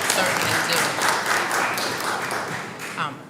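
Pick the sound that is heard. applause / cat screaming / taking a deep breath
applause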